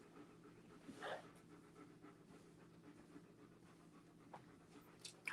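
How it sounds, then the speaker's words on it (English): Dog panting softly and steadily nearby while waiting for bones, quiet rhythmic breaths with a brief whimper-like sound near the start, no talking. "That's our dog. She wants bones."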